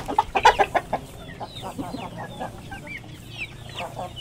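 Chickens cluck in a burst of quick close calls, then fade into softer scattered clucks and chirps over a quiet background.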